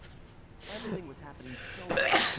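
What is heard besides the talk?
sneeze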